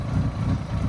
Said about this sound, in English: The engine's quiet.